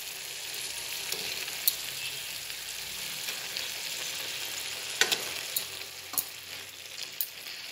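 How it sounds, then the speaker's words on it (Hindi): Fried eggplant pieces go into a pan of sizzling masala paste for baigan bharta and get stirred, a steady quiet frying hiss broken by a few sharp spoon clicks against the pan. "अब इसमें हम फ्राई किए हुए बैंगन को एक एक करके इसमें डाल देंगे।"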